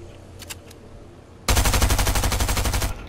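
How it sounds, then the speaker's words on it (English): A burst of rapid SMG fire in the Fortnite video game, loud and close, with about a dozen evenly spaced shots rattling off for over a second after a quieter opening. "These SMGs are so good."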